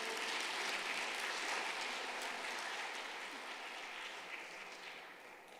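A church congregation at a Sunday worship service claps together in a steady, rain-like patter, fairly faint and distant, slowly tapering off toward the end.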